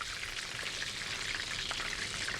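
Food sizzles steadily on a hot griddle while a sandwich is assembled, a dense, even hiss close by with faint crackles and no talking.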